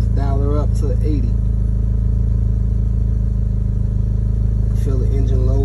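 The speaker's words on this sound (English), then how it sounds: "Feel the engine loading itself." A car engine idles with a steady low drone that settles under added load as a PWM voltage controller is dialed up, continuous and close, with someone talking briefly at the start and end.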